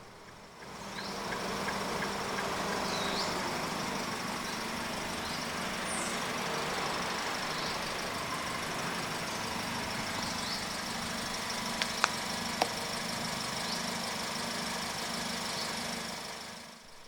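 A 2020 Perodua Myvi 1.5 AV engine starts and settles into a steady, even idle hum, heard from nearby and continuing for a long stretch with a couple of faint clicks.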